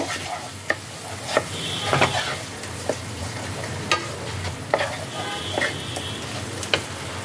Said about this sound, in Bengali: ফ্রেশ ক্রিমটাকে মশলার সাথে ভালো করে মিশিয়ে নেব।